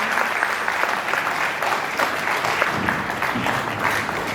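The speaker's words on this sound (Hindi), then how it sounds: "हमारे शोभा लाल जी सर का स्वागत पूरा तालियों के साथ।" A crowd at an International Yoga Day honours ceremony claps steadily to welcome a guest. The applause is continuous and even, moderately close, with no speech heard.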